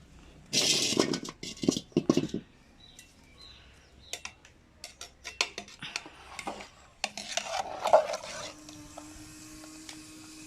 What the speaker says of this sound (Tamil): கிண்டுடுமா